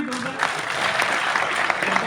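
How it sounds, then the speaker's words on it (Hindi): An audience at a Constitution Day speech claps, a short burst of dense, loud applause that follows a speaker's voice. "ताली बजाइए।"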